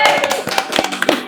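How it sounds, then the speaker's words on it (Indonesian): A few people clap at an Indonesian youth organization podcast, giving a short burst of scattered, uneven hand claps up close, around ten sharp taps over a second. "tepuk tangan dulu tuh"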